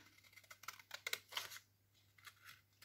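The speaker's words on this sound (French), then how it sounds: "Je vais venir le découper" Scissors cutting out a paper card, with a handful of crisp close snips in quick bursts, quiet and unaccompanied.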